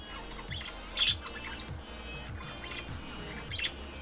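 Budgies chirp in short, bright bursts over a steady low hum, with a couple of louder calls standing out; no one speaks.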